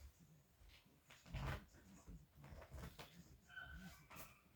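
A neighbouring dachshund barks and whimpers in short, shrill bursts next door, moderately close, with a loud peak in the middle and uneven yips continuing through the rest.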